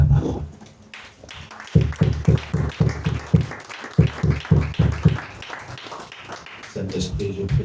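Congregation in a church service clapping together in a steady rhythmic beat, loud and close, with murmured voices and worship noise around it.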